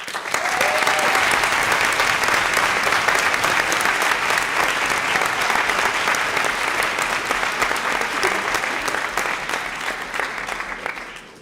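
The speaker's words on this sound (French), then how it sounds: "Mesdames et messieurs, un tonnerre d'applaudissements pour Anna Cœur." Sustained applause from a theater audience after a talk, a thick, even wash of clapping that holds loud for several seconds and tapers off at the end.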